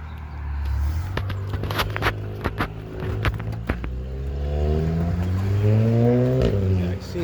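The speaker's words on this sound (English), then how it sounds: "see, he's got that annoying fucking muffler" A car with a loud aftermarket muffler drives past on a street in Dorval, Montreal, sharp popping bursts giving way to a rising, droning exhaust rumble that swells as it passes nearby.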